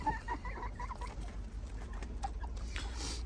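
Chickens cluck softly and repeatedly in quick, faint bursts at a DIY heated waterer in freezing cold weather, over a low steady outdoor rumble.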